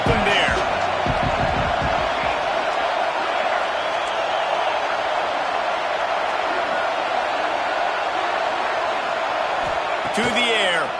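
A football stadium crowd roars in a steady, dense wall of noise throughout, with cheering swelling near the end.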